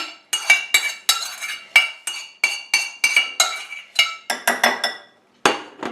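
Metal utensil clinking and scraping against a dish while tortilla ingredients with green asparagus are mixed, a fast series of sharp close taps and scrapes in irregular rhythm, with a brief pause near the end.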